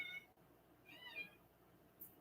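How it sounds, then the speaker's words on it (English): A small house cat meows at close range, a few short high cries, with a louder drawn-out meow near the middle, over quiet room background. "my little kitty's meowing"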